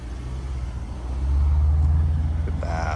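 A 2007 Mercedes-Benz SL550 V8 roadster pulls away, its steady engine rumble swelling as it accelerates and holding at a constant drone, with no voices.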